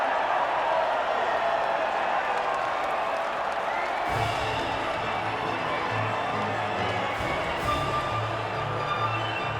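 Cheering crowd at the podium in the F1 2018 video game after the Italian Grand Prix at Monza, a steady wash of applause and whoops that thins midway as a low hum enters, with speech over it.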